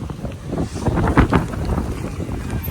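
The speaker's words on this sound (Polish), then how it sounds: "ale wieje" Wind gusts buffeting the microphone in a low, rumbling roar at a parking lot in Omiš, Croatia, swelling and easing over a few seconds with no voices.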